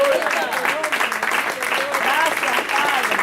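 A church congregation claps steadily during a sermon, a continuous dense applause while voices call out and sing over it.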